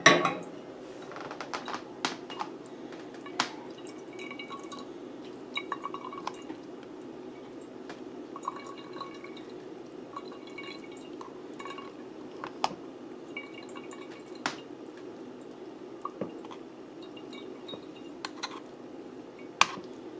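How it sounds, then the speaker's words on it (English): Liquid is squeezed from smashed rose petals to make homemade rose water, giving scattered drips and small splashes with occasional light clinks of a container over a quiet background. "we definitely want to smash these flowers to get as much of the liquid out"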